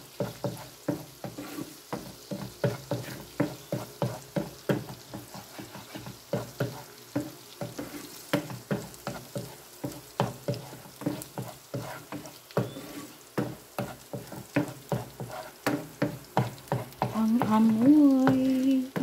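Butter and garlic fry in a pan for spicy prawns, a steady crackling sizzle punctuated by repeated stirring scrapes, with a louder burst of sizzle near the end.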